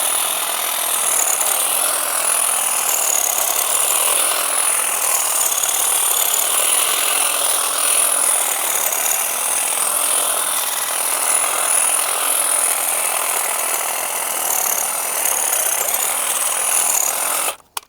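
A Webb ECO 20V cordless battery hedge trimmer cuts through thick, dead branches, giving a loud, continuous buzzing whine with chattering cutting noise that stops abruptly at the end.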